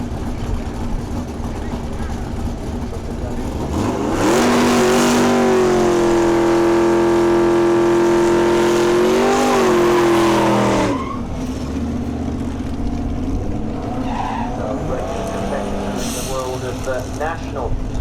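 A race car blasts down a quarter-mile drag strip at Melbourne Raceway in York during a Festival of Power event. The engine roars loud and close for several seconds, then fades, with a commentator talking over it.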